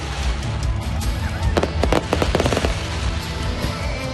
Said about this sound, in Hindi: आसमान में आतिशबाजी